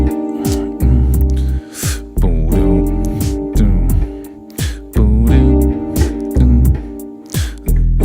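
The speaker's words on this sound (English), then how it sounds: "if we're approaching those root notes on the bass, half step below, it's going to sound something like this." A key bass line approaches each root note by a half step from below under a loud, rhythmic groove, with deep bass notes landing alongside sharp percussive hits in a steady pulse.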